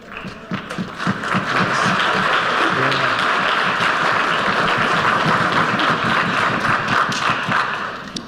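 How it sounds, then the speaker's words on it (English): A high school orchestra spring concert audience applauds in a sustained, dense wash of clapping that swells in and holds evenly for several seconds before easing slightly at the end. "They deserve a round of applause"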